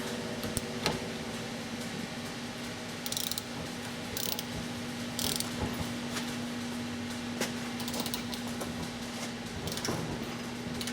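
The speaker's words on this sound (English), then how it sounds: "We got our socket on the end here, so we're just going to make sure it cracks loose." A ratcheting socket wrench working a ball joint nut on a Ford F350 four-wheel-drive front end, giving a steady run of rapid mechanical clicks close up, with a faint hum underneath and no talking.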